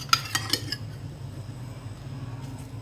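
A spoon clinks and scrapes against a bowl as fruit chaat is mixed, a few sharp knocks at the start and then a quiet, soft rustle of the fruit being turned over.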